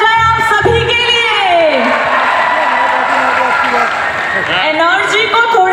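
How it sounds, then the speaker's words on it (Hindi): A festival crowd at Etawah Mahotsav claps and cheers loudly while someone speaks energetically over a microphone, her voice riding on top of the continuous applause. "एक बार जोरदार तालियां हो जाए आप सभी के लिए."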